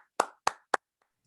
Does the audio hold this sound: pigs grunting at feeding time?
no